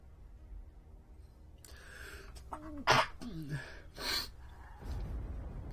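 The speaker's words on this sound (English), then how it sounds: "A wee sneeze over there, apologies for that." A single sharp sneeze bursts out nearby with a quick gasping intake just before it. It comes during a strategy game session, followed by a softer breathy snort, with faint background game sound.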